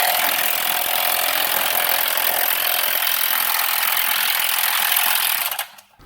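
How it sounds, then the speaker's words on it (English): A power drill whirs loudly and steadily for several seconds while tightening a part on a water heater, a harsh grinding buzz that cuts off abruptly near the end. "Then tighten it with the drill."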